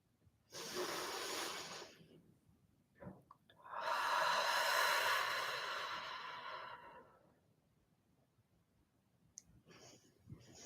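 Slow, deep breaths during a gratitude meditation: two long, close breathy exhales with a quieter intake between them, then near silence with a few soft clicks.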